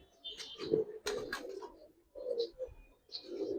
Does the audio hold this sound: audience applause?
no